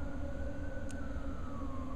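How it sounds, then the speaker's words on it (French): Emergency vehicle sirens wail outdoors at a distance, a faint steady tone gliding slowly downward over a constant background hum. "Puis là, il y a des sirènes, j'espère qu'on va pas les entendre."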